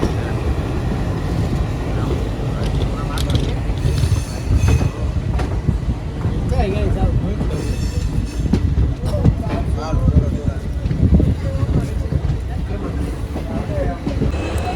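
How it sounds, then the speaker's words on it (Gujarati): A train rumbles and clatters steadily with occasional wheel squeals as it arrives at Rajkot railway station, as people talk nearby over the noise. "તમે જોઈ શકો છો રાજકોટનું રેલવે સ્ટેશન આવી ગયું."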